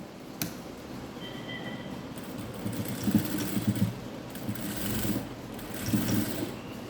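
Sewing machine stitching a straight seam on fabric while closing a fancy knot design, a steady mechanical whir with rhythmic pulses, close and moderately loud with no talking.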